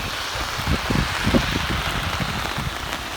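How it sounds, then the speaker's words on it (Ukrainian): Heavy rain pours steadily on a mountain resort around Yaremche, a dense, even hiss of drops drumming on nearby surfaces with no voices, close and constant throughout. "І знову дощ, та ще й який."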